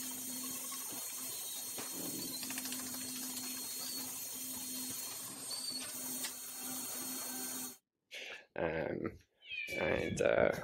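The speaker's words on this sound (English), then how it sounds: "here's our little resident cat." A farm cat meows near a milking area: a steady mechanical hum with a tonal whine runs for most of the clip, then cuts out, and a few clear meows follow close by.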